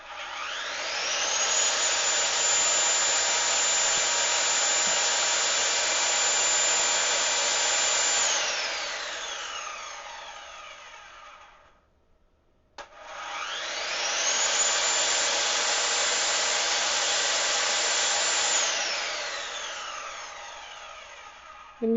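A power saw running off a 100Ah LiFePO4 battery: a loud, steady high whine that spins up, holds for about eight seconds, winds down, then starts again for another long steady run, with no talking.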